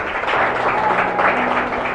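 A church congregation claps together in praise during a sermon, a thick, continuous wash of applause from many people that stays loud and even, with a faint low hum beneath.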